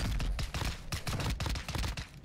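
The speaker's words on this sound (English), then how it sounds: "See, those are the pistols." Rapid bursts of pistol gunfire in the video game Warzone 2, dense overlapping shots cracking in quick succession for a couple of seconds, loud and close.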